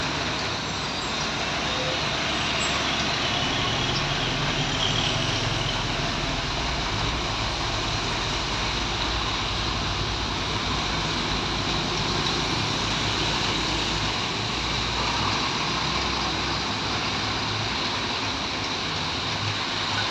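Dense road traffic with tank trucks passing on a road in light drizzle, a continuous loud broadband roar of engines and tires on wet pavement, steady throughout with no talk.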